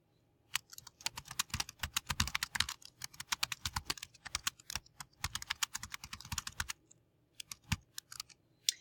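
Rapid, uneven keystrokes on a computer keyboard, crisp clicks coming in quick bursts with brief pauses, close and fairly quiet, with no voices.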